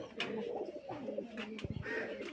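A white pigeon with a black beak coos in a run of soft, low throaty calls, close and clear, with faint background noise and no talking.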